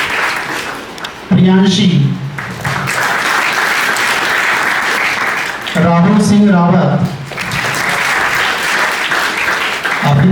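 Continuous audience applause at a sports day induction event as names are read aloud, the clapping steady and full while an announcer's voice breaks through twice over it.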